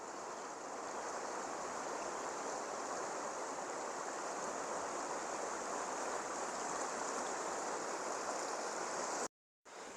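Water flowing in a stream at the Kaeng Chang Mop rapids in Thailand, a steady broadband rushing and gurgling that stays loud and even throughout, with a brief dropout near the end.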